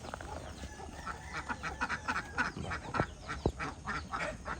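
Ducks quack repeatedly in a busy flock nearby, their calls overlapping at moderate volume over a steady noisy background on a small poultry farm.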